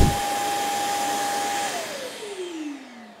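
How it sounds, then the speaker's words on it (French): A robot vacuum's emptying base runs loud and close, a steady motor whine with a high tone that drops in pitch as it winds down over a few seconds. "Je viens de vidanger l'aspirateur avant de lancer la deuxième épreuve."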